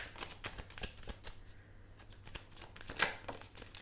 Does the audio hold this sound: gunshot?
no